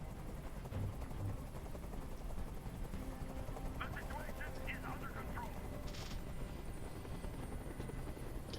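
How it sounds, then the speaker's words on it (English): In the video game Detroit: Become Human, a helicopter's rotor drones loudly and continuously overhead, a steady thumping roar with faint distant gunfire-like crackles mixed in. "I can't stand that noise anymore. Tell that helicopter to get out of here."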